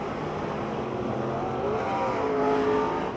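Race cars at Pennsylvania Motor Speedway roar around the track three wide in a close pack, a dense continuous engine drone with rising and falling tones, steady and loud throughout.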